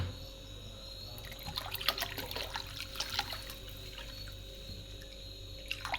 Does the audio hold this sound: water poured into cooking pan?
yes